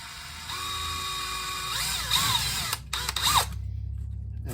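A cordless power drill runs in short bursts at a ceiling light fixture, a quiet whirring that stops and restarts, its pitch shifting as it spins up and slows, with no talk.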